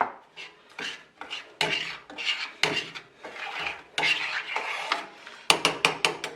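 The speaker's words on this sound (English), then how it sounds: "Just going to give that a quick little stir." A spoon briskly stirs molasses, vanilla and sugar in a bowl for a spice bun, giving quick scraping, clinking strokes in an uneven rhythm, close up with no voices.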